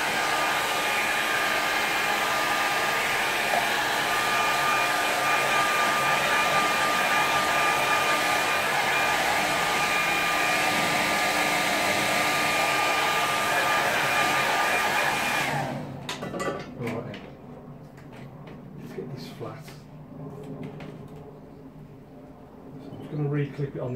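A hair dryer blows steadily and loudly up close for about fifteen seconds while quick-drying a watercolour painting, then switches off, leaving faint handling noises and quiet background.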